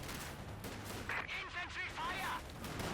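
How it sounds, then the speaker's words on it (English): Mortar rounds fire and land in a Company of Heroes 2 World War II strategy match, dull booms under steady battle ambience and game effects, with a caster talking over the action. "Mortar fire there, trying to hit it, but failing to hit it at all"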